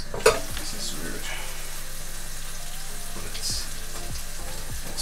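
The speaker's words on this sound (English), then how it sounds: "Then stir fry until charred and slightly softened." Vegetables sizzle quietly in a hot frying pan while being stir fried, with soft scraping and clinks of a utensil against the pan.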